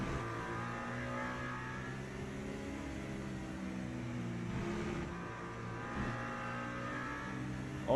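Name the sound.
race car engines in Le Mans Ultimate video game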